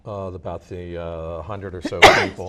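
A sudden, loud sneeze bursts out near the end amid a man's ongoing conversational speech in an indoor interview setting.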